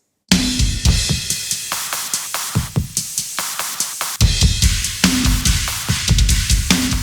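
A distorted track plays together with the drums in a mix, a loud, dense wash of gritty noise over steady punchy drum hits that grows fuller and heavier partway through.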